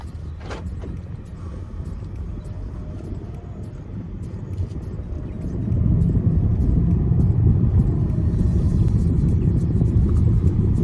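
A BMW 530i E60 sedan with Steptronic automatic gearbox drives along steadily on a road test, a low rumble growing louder halfway through, with faint mechanical creaks and road noise.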